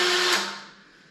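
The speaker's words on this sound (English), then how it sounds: "So this is just your standard 3/8 inch driver, just a consumer drill." A consumer 3/8 inch drill drives a Hullwrecker 2-roller grain mill, giving a brief, close motor whine with a steady hum that fades within about a second.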